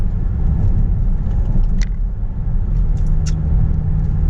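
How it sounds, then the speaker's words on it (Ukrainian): A Cadillac XT6 engine rumbles steadily and close by as the vehicle moves off with light throttle, with a couple of faint squeaks over the low drone. "Зовсім трішечки нажали на газік, все, машинка поїхала"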